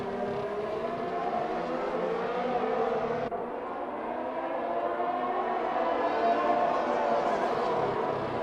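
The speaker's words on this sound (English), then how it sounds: "So Waddington gets back in front of the McLaren in a position you don't typically see overtakes happen at." Race cars in a sim racing game at Bahrain, a pack of engines droning and whining continuously at high revs, fairly loud and steady, with a brief gear-change dip partway through and pitch slowly rising.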